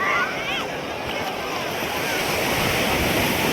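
Sea waves at Digha beach roll and wash in a steady, loud broadband roar with wind noise, and a voice sounds faintly over the surf.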